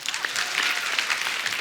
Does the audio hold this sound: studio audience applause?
yes